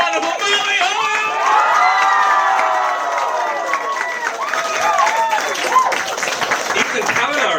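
Audience at a comedy special cheering, whooping and applauding loudly and steadily, with shouts and a host's voice over the crowd noise throughout.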